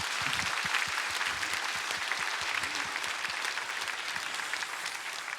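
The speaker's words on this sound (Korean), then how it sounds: "우리 하나님께 감사와 영광의 박수 올려드리겠습니다" A church congregation breaks into vigorous applause, a loud, thick clatter of many hands with distinct nearby claps popping out, sustained and fading slightly toward the end.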